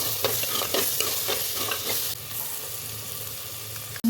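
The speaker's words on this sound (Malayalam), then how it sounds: "നമ്മുടെ മഞ്ഞൾപ്പൊടി ഇട്ട് കൊടുക്കുന്നുണ്ട്." Turmeric powder being stirred into a sizzling frying pan, with steady frying hiss and repeated scraping strokes of a spoon that ease off midway, close and fairly loud, with no talking.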